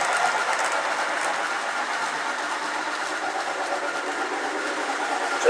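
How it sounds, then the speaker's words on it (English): A small model train engine pulling coaches runs steadily along its track, giving a continuous close rumble and rolling clatter of wheels with no voices over it. "Just a nice running engine."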